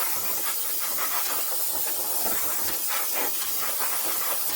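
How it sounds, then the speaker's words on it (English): Aerosol brake cleaner hissing in a steady, close, continuous spray onto the rusted parking brake of a Ford F150, with no talking. "so I'm going to spray it down with brake clean"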